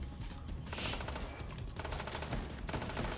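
Shotguns fire in The Division 2 video game, a dense, faint stretch of gunfire blasts and crackling impacts layered into a continuous noisy wash, with no voices.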